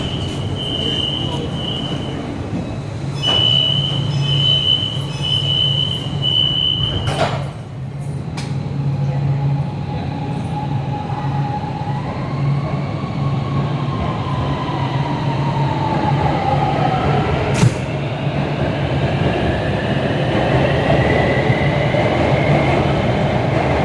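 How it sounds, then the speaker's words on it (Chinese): A Shenzhen Metro Line 8 train arrives at Xichong Station, a loud rolling rumble with rising and falling whine and brake tones, while a platform announcement plays and people speak nearby. "开往市湾方向的列车即将进站，请按地面指示排队候车，"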